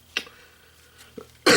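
A person coughs alone and close up: a short cough, a faint throat-clearing sound a second later, then a loud, harsh cough burst at the very end.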